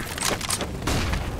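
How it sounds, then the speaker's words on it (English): A flashbang grenade detonates in a multiplayer shooter video game, giving a couple of sharp, loud bangs with broad noisy crackle. Scattered gunfire-like bursts fill the short, busy stretch. "Throwing a flashbang."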